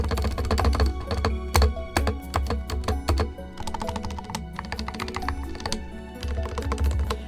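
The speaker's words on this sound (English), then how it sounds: "Spacebar sounds like trash." Rapid clattery typing on a mechanical keyboard with a poorly stabilized spacebar, dense overlapping keystrokes and heavier thocks close up, with no talking.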